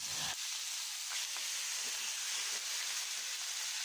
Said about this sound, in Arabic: جدًا لمّا تحطّي الفاهيتا أو الفراخ على الزيت تسمعيه عشان تتأكدي كده إن ماشية خطواتِك صح